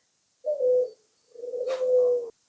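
Pet birds in a home aviary kept alongside cockatiels, lovebirds, budgies and mynas give two drawn-out, steady calls close by, separated by a short pause, with no talk.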